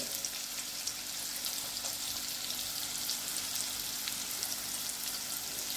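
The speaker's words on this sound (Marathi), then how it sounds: "आता याला आपण व्यवस्थित परतून घ्यायचं" Raw green mango sautéed with spice masala, turmeric and salt for a sweet, sour and spicy mango methamba made without water, giving a steady, even sizzle that fills the clip without pause.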